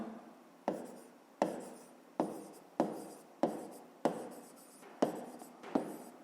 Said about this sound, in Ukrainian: Давайте таки запишемо, що це в нас правильно.